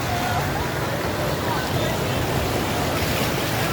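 Floodwater rushing through Sialkot after heavy rainfall, near a broken drain bridge, makes a steady, dense roar that runs loud and unbroken from start to finish, with wind buffeting the microphone and faint voices in the background.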